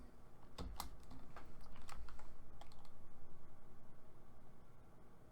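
Computer keyboard keys tapped in quick light clicks, a brief burst of typing near and clear over a faint steady hiss, then quiet hum.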